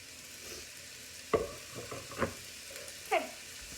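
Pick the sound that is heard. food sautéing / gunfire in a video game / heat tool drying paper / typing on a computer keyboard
food sautéing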